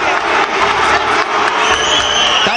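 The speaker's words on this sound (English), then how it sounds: "The Greek crowd don't like that." Greek crowd at a kickboxing fight roaring and jeering in a big arena, a dense, loud, continuous wall of voices with scattered shouts and some clapping.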